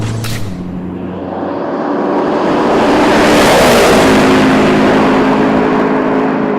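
A McLaren MP4-12C XP beta test car drives at the Idiada proving ground, its engine loud and close as it accelerates, with a rising roar that peaks and sweeps past before settling into a steady high-revving drone.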